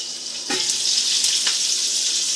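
A rib eye steak cooks under a lid in a pan, giving a steady, even hiss of sizzling that thickens suddenly after a brief quieter start, with no voices.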